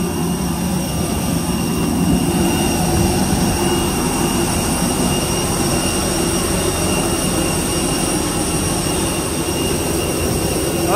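Steady, loud whine and rumble of a passenger plane's jet engines heard while boarding at Manila, a continuous drone with sustained high tonal hums and no talking.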